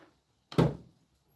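A wrecked car door on a smashed car gives a single short metallic thunk as it is forced open, close by and alone in otherwise quiet surroundings.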